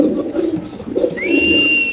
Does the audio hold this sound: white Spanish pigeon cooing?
yes